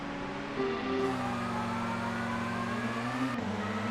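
Touring car engine in ToCA World Touring Cars at a race start at Nurburgring, a steady loud mid-pitched drone with held revs and a slight pitch shift partway through, no talk.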